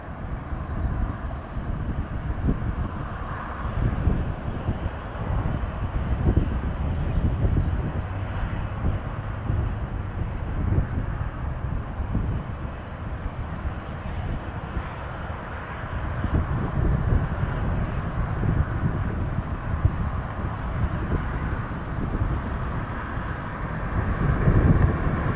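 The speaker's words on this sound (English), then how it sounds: "Oh, there's a WestJet coming in." A WestJet airliner on approach to land at Toronto Pearson gives off a steady, broad engine roar that holds at a fairly even level throughout, with some wind buffeting.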